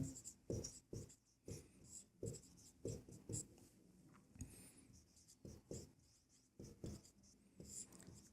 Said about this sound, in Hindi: तो हम यहाँ लिखते हैं दिया है